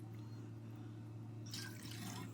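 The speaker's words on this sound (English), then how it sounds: "I'm going to take the broth and pour it in here to get all of the residual sauce out." Broth pours into a pan holding meat, onions and peppers, a soft liquid splash that grows brighter halfway through over a steady low hum.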